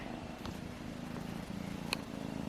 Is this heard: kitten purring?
yes